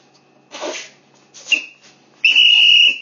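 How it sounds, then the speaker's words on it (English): A whistle is blown in a short, sharp, piercing blast near the end, after a couple of softer breathy puffs, loud and close indoors. "I whistle."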